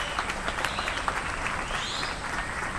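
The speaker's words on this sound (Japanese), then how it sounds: "今一度大きな拍手を。" An outdoor twilight concert audience applauds the Chubu Air Defense Force band after its set, steady mid-distance clapping that runs evenly throughout.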